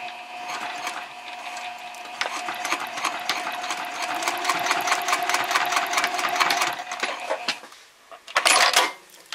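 A sewing machine runs a rapid, continuous stitching rattle at stitch length 3.0 while sewing and backstitching messenger bag seams. It pauses briefly near the end, then gives one last loud burst.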